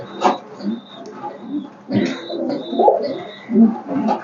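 Racing pigeons cooing up close in a loft, several soft throaty coos in uneven bursts with light rustling, no clear talk over them.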